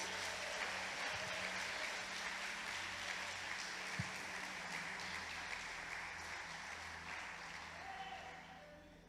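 A church congregation applauds during a sermon, a steady wash of many hands clapping heard from within the room, holding at an even level and fading slightly at the end.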